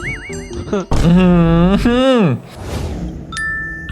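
Bright, tonal in-game bell chimes from the Goose Goose Duck video game ring out over a busy game soundtrack, with a short high ding near the end.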